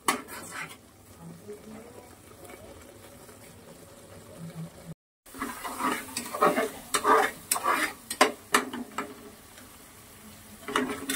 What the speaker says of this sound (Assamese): যেতিয়ালৈ পানীটো পুৰ নাযাব তেতিয়ালৈ মই মছলাটো ভালকৈ ভাজি লম।